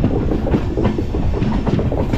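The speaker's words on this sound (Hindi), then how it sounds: "देखो घूमती जाती ट्रेन करी इधर घूमती है" The 14674 Shaheed Express runs on its tracks around a curve, a steady close rumble with dense wheel clatter and no voices.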